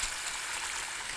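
Water runs into a bowl that held tomato sauce, making a brief, steady, close hiss of splashing with no talk.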